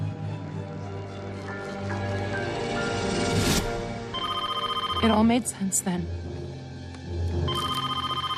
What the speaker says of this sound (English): The late night phone calls.